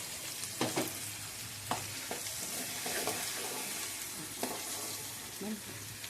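Ground masala fries in oil for fish curry with a soft, continuous sizzle. A spoon scrapes and stirs the pan in repeated short strokes, heard quietly and close.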